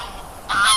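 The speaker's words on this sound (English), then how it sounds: "I'm starting to think that I should eat more goose, because they're really annoying." Geese honk beside the River Thames near a campsite, a brief loud burst of several overlapping nasal calls rising out of low background noise.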